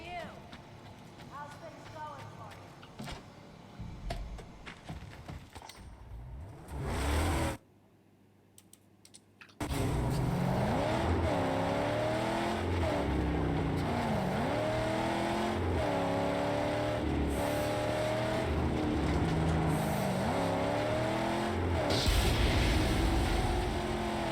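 Car engine roaring and revving while driving in the Mad Max PC game, loud and continuous with rising and falling pitch, after a stretch of keyboard typing and a brief drop-out.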